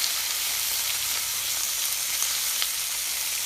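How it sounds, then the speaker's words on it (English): Bacon strips frying in a pan, a steady bright sizzle with small pops and crackles, close and continuous, no voices. "now that we got our bacon in the pan, hashtag bacon sizzle"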